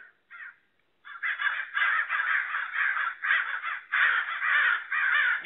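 Ravens caw harshly in a rapid, repeated chorus, loud and close, after a couple of brief opening calls, with no talk over them.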